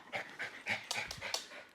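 A pet dog at a family home panting in quick, rhythmic breaths close by, a steady series of short huffs with no talking.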